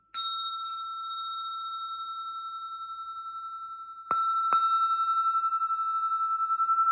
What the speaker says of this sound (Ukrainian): чакровий дзвоник непальський